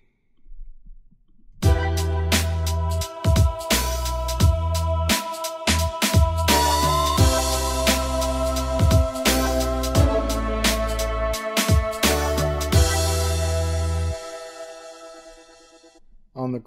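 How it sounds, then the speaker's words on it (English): A produced beat with choir and string samples layered over it, punchy low kick hits and sharp percussive transients in a steady rhythm beneath sustained harmonic pads, ending with a fading tail. "Here's what it sounds like with the beat."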